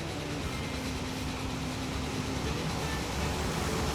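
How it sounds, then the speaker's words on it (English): Zephyr diesel train in Transport Fever 2 rolling past as a steady, dense rumbling roar of engine and wheels on rails, with a faint hum and no talking. "Here is the Zephyr diesel train, so one of the marvels of Gasmean engineering"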